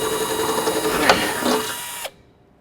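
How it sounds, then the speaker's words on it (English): A power drill bores through a plastic tub with a whining buzz for about two seconds, rising briefly as the bit breaks through, then cuts off abruptly. "drill all the way through the plastic"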